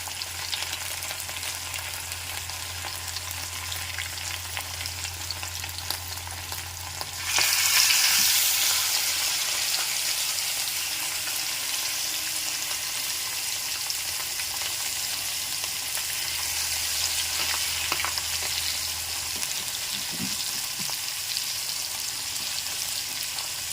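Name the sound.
fish frying in a pan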